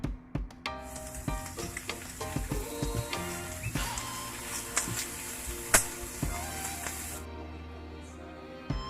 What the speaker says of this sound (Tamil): கேபேஜ், கேரட் இது ரெண்டையுமே சேர்த்து நல்லா மிக்ஸ் பண்ணிக்கலாம்